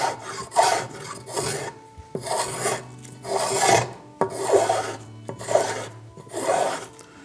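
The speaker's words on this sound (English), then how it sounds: "We can go with a spoke shave." A spokeshave is drawn across a wooden half model in a series of about seven rasping strokes, each a close, dry scraping rub with short pauses between, steady and unaccompanied by talk.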